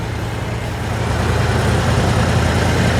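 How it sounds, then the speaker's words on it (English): A 1962 Chevrolet Impala hot rod at a spring rod run sits with its engine running, a loud, continuous low rumble that grows slightly heavier after the first second. "In case you wanted to hear that 62 Impala run."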